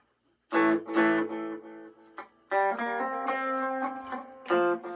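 An amplified electric guitar played through a small Fender Greta 2-watt tube amp plays a few ringing notes and chords, each sustained with repeating delay echoes trailing behind, with a bit of reverb.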